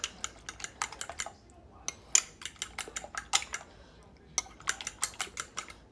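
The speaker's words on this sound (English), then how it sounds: "I'm just going to whisk them until they become completely stirred up together" Eggs being whisked in a bowl for an omelette, a brisk run of light clicking strokes against the bowl that pauses briefly midway, then resumes, close and soft.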